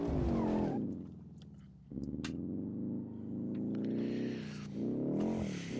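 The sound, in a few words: car spinning and skidding in BeamNG.drive video game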